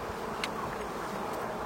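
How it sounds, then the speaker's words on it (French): Honeybees swarming around hive feeders, a continuous close insect drone with faint rising whines over a dense hum. "là on se retrouve avec des abeilles plein de nourrisseurs"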